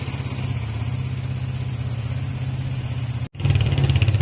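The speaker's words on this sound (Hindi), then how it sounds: "इंजन के अंदर से आवाज़ें भी ख़त्म हो चुकी हैं, आप देख सकते हैं साउंड भी बहुत ही ज़बरदस्त हो चुका है" A motorcycle engine with a newly fitted piston idles steadily and loudly up close, a smooth even throb that cuts out for an instant and then resumes slightly stronger.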